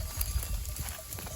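Livestock feed on a green forage crop in a field, heard up close. Soft tearing and rustling mix with dull, uneven hoof thuds over a brief moment.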